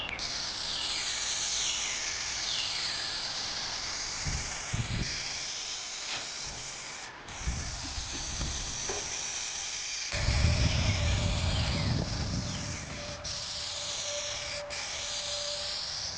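Clear coat sprayed from an aerosol can onto a pickup truck hood, a steady close hiss running in long unbroken passes with brief pauses and a few soft clicks and rustles between them.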